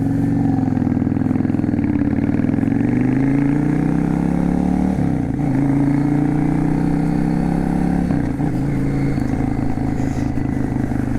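A Yamaha V Star 650 Classic cruiser motorcycle riding through town, its engine rumbling steadily and loudly throughout, with pitch shifts as it changes speed and gears around the midpoint and near the end.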